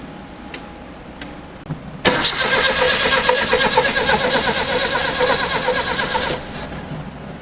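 A 1972 Datsun 620 engine: a few faint clicks, then the starter cranks loudly and steadily for about four seconds before cutting off, with no talk.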